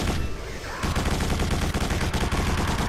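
Dense, loud automatic gunfire from the Quake 4 game pours out in a continuous rattling barrage with a brief lull early on, firing nonstop and close throughout.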